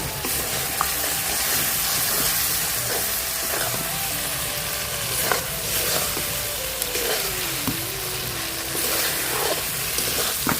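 Spice paste frying in oil for a kidney bean curry makes a loud, continuous sizzle and bubbling, broken by a few sharp spatula clicks and stirs, with no talking.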